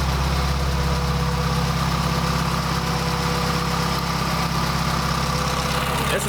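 A turbocharged Honda Civic idles steadily at its first start of the year, with the radiator fans running. It gives a loud, constant low engine drone and fan whir throughout, and no one speaks.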